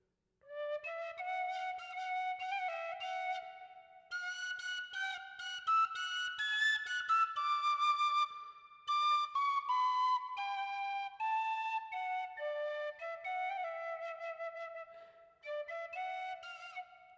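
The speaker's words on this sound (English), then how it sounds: "I have the penny whistle, so I could figure this one out." A penny whistle plays a flowing melody of video game music, clear breathy notes in quick runs and held tones with short pauses between phrases, close and alone.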